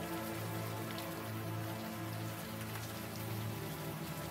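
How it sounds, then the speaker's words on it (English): Warm rain falls steadily in the Unavowed video game, a soft continuous patter on surfaces with a faint low musical hum beneath and no voices. "the warm rain is coming down."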